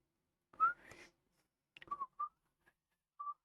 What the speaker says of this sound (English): I hate people that can whistle.